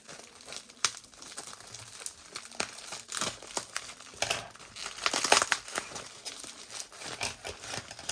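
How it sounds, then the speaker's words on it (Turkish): A plastic cargo package for stationery being cut and pulled open, with dense crinkling and tearing of plastic film in close, uneven bursts, louder near the middle. "Hemen buradan çıkartıyorum ve de böyle bir paket karşılıyor bize. Hemen kesiyorum."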